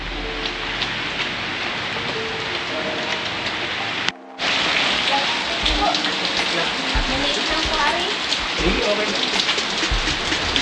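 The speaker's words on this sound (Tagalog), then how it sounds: "Ay, maulan." Steady rain pours outdoors at a fishpond restaurant in Lucban, Quezon, a dense close hiss of drops pattering on surfaces that briefly cuts out before resuming just as heavily.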